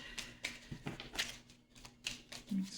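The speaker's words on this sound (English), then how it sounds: "Let me just make sure I shuffle real good." Quick bursts of papery riffling and soft taps as a deck of cards is shuffled, repeated several times in short rhythmic flurries, close by with no talking.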